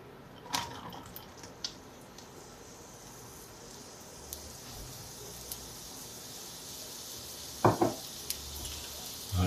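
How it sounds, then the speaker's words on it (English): Onions frying in oil in a pan for a lentil and squash curry, a soft continuous sizzle with a few sharp utensil knocks and clatters, loudest near the end. "we'll fry the onions for about 6 to 8 minutes just to get them brown"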